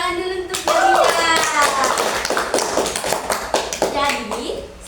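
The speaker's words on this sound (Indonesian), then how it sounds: "tepuk tangan dulu untuk Nadia" Students in a classroom clap for a classmate named Nadia, with a burst of scattered hand claps mixed with children's voices and chatter throughout.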